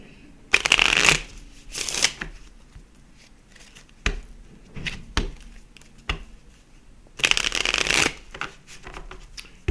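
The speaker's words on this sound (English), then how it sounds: "Okay. Let me get you a couple of cards out here." Playing cards are shuffled in several quick riffling bursts close up, separated by quieter gaps with light taps and handling noises.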